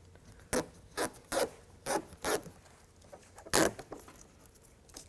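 Adhesive backing peeled from 3M tape on an AVS Aeroskin II bug shield for a 2019 Chevy Silverado 1500: a series of short crisp ripping pulls, about six in five seconds, close and quiet.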